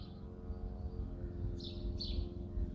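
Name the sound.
birds singing in quiet countryside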